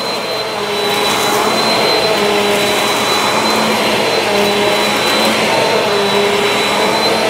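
A Bissell CleanView Compact upright vacuum cleaner runs continuously close by, a loud steady roaring whine that holds level throughout with a faint high tonal hum on top.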